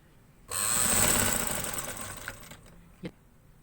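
A sewing machine stitches piping onto a garment neckline in a single short, fast burst of whirring that slowly tapers off, followed by two soft knocks.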